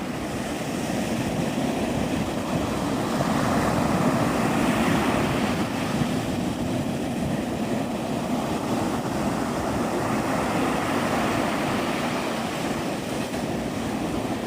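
Ocean waves washing onto a beach at sunrise, a continuous broad rushing surf with gentle swells rising and falling, steady and fairly close, with no voices.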